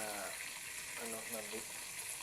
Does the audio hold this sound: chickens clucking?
no